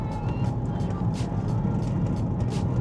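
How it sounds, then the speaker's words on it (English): Steady low rumble of tire road noise inside a 2011 Opel Insignia sedan at speed, a continuous droning roar with faint intermittent higher hiss, no talking. "as with any other vehicle on this stretch of road, you can really hear the tires"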